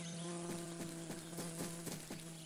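A cartoon bee's steady buzz hums throughout, with a sustained tone and a rhythmic series of soft ticks or pulses underneath, fairly close.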